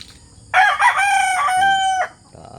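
A backyard rooster crows once, loud and close, a long drawn-out call over faint background noise.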